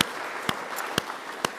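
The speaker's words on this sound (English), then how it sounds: "Please give them a big round of applause." A forum audience gives a big round of applause to its partners and sponsors, a soft, steady patter of many hands with a few sharper claps standing out, no voices over it.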